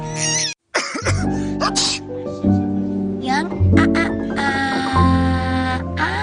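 A few sharp coughs break out at the start, then a sustained tonal, musical bed continues with occasional brief bursts.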